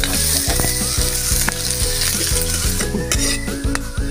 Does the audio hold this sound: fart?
no